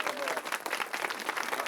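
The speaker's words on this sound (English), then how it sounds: "let me first ask all of you to give those folks who you're going to hear from a round of applause" An audience at a legislative announcement event gives a round of applause, a dense, steady burst of clapping that fills the short moment at close range.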